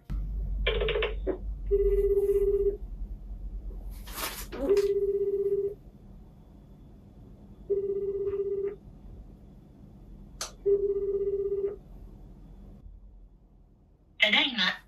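Ringback tone of an outgoing phone call in Japan, a steady beep that sounds in regular one-second bursts separated by pauses, repeating four times, with a few faint clicks and rustles in between.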